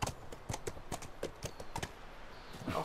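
Horse hoofbeats in the video game The Last of Us, a quiet, uneven run of clip-clop steps on the ground at a farmstead, with no one talking over them.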